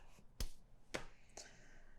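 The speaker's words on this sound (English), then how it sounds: "That was a weird high five" Two or three sharp, quiet hand slaps from a quick high five, one person holding a knife, spaced about half a second apart in an otherwise quiet room.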